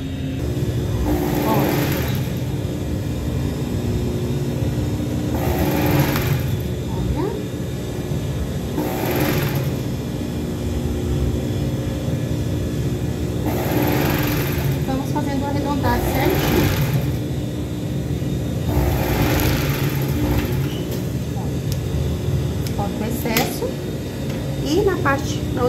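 A domestic sewing machine runs in repeated bursts as it stitches around a child's shorts and crop top set with bias trim, its whirring rising and pausing between stretches while someone talks over it.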